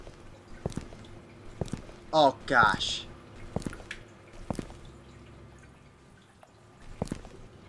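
Wet squelching footsteps through water in the video game Ildefonse, a steady series of short splashy drips, with a player briefly speaking over them.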